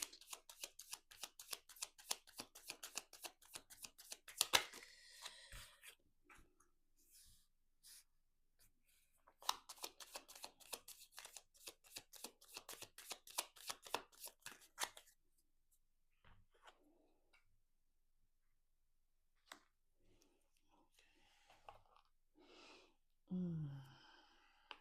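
Tarot cards are shuffled in long runs of rapid, crisp riffling flutters, close and quiet, with pauses between bursts and a few soft handling sounds near the end.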